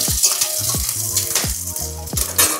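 Chopped green chilli and garlic frying while being stirred in a pan, a bright hiss broken by repeated quick stirring strokes and scrapes, no talking.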